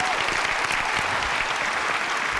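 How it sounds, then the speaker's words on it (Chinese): Studio audience at a televised job-recruitment talent show breaks into dense, continuous applause, a steady wash of many hands with no talk. "好，来，掌声。"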